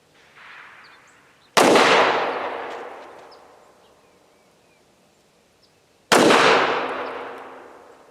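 Two loud, sharp pistol shots from a Tisas PX 5.7 at an outdoor gun range, several seconds apart, each cracking and then echoing away over a couple of seconds, with a faint bird call between them.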